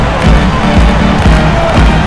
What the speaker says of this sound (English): And this crowd can't get enough of it.